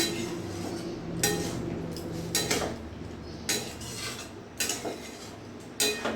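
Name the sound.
stirring fig curry in a pan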